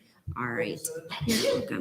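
A single sneeze bursts out during a student government senate meeting, with a person talking just before and after it.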